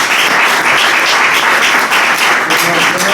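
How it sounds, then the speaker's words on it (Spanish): Loud, thick applause fills the room from an audience at the book presentation of Roberto Rivera's "El Gran Salto" at the Centro Riojano, a continuous roar of many hands clapping at once. "Un fuerte aplauso para Joaquín."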